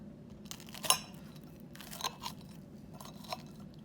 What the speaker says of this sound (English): So as you can see, you can hear the crunch.